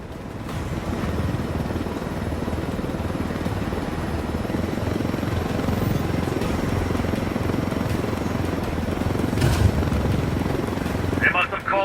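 Helicopter flying in Ghost Recon Wildlands, a loud continuous rotor roar that holds steady, with voices talking over it and a brief sharp burst near the end.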